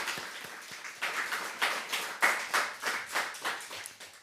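A church congregation claps together at a Sunday worship service, a steady run of sharp, rhythmic hand claps building into loud unison pulses, close and continuous with no talking over it.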